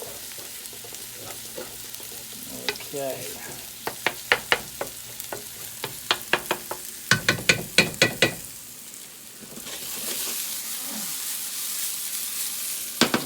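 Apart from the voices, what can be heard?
tomato paste frying in a pan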